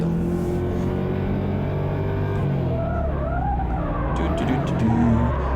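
A Nissan S14 with a 2JZ engine drifts along a track, its engine droning and shifting pitch while the tires scrub and squeal in a long sustained slide, loud and continuous.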